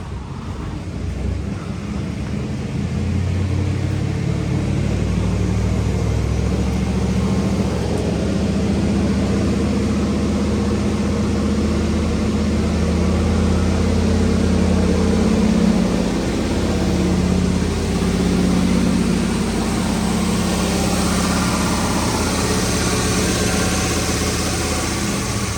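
A rebuilt LS V8 car engine with an exhaust leak warms up and idles, a loud steady low rumble that settles into an even idle and holds for over twenty seconds.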